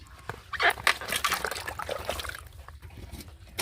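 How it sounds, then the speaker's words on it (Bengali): Taro greens being washed by hand in water, with close sloshing, splashing and dripping in a short burst that tapers to quieter trickles. "তাই আমি একটা একটা করে ভালো করে ডুলে ধুয়ে নিচ্ছি"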